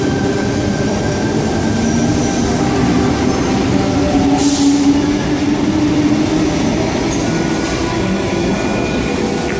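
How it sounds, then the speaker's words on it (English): A Sydney suburban train bound for Bondi Junction pulls out of Hurstville Station, a steady loud rumble of rolling wagons with wheel squeal and rail clatter running throughout, close by and without talk. "here at Hurstville Station, we have a Bondi Junction service departing"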